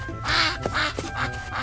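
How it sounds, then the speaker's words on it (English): Ducks on a modern farm quack in a quick series of four nasal calls, close and fairly loud, with no other sounds around them. "ducks are raised in modern farms with strict supervision"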